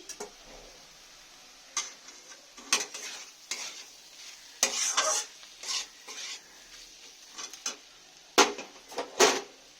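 Snake gourd frying in a pan, stirred in intermittent scraping strokes with soft sizzling underneath, the stirring bursts irregular and fairly close, with no talking.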